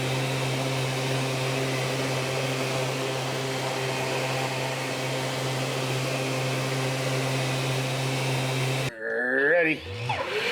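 Electric sander with a fresh sheet of sandpaper runs hooked to a dust extractor at a workshop sanding station, a steady close motor drone with whining tones, broken near the end by a brief voice.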